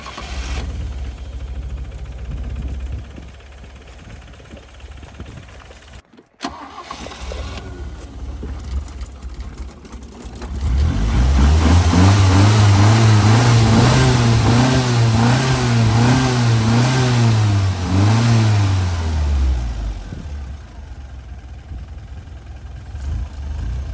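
A 1965 Toyota Corona, abandoned and just fitted with a resealed fuel filter, runs quietly before its engine catches, revs hard and holds a loud, rising-and-falling roar for several seconds, then drops back to a low murmur.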